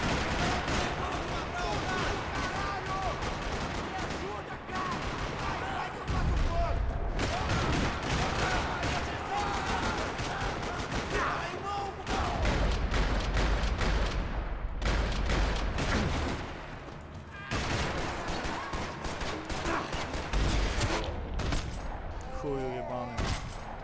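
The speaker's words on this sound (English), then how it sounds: "Another parking lot rattling with gunfire." Sustained gunfire fills a parking lot shootout in the video game Max Payne 3, dense overlapping shots and bursts rattling nonstop for the whole stretch, with deep booms at times and loud action-game mixing throughout.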